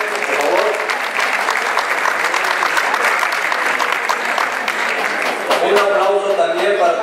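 A crowd at a centenary event of a Mexican ejido applauds its legal adviser and other officials. The clapping is loud, dense and continuous throughout, with voices mixed in beneath it.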